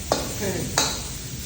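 Continuous sizzling of beef stir-frying in its own fat in a hot pan, with two scraping stirs of a spatula, close up.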